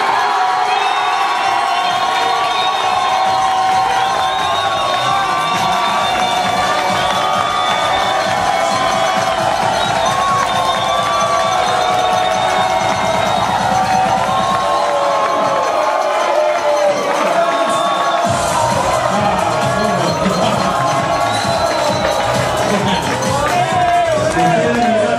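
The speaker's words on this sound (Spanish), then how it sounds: "Y el aplauso para la representante del sector Gorra." Guests at a dinner at an Italian community centre cheer, whoop and clap for a sector representative, a long, loud, sustained roar of crowd noise with shouting, children's voices and background music throughout.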